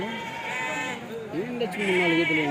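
Local sheep at the weekly Kadiri sheep and goat market bleat repeatedly in overlapping, wavering calls close by, with crowd talk and market bustle running underneath throughout.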